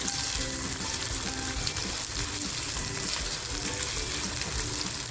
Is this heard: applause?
no